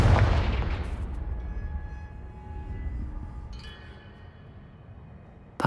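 The Confringo fire spell goes off in the wizarding game Hogwarts Legacy as one loud booming blast that rolls away into a long fading rumble, followed by a faint chime and a sharp final crack, with no talking.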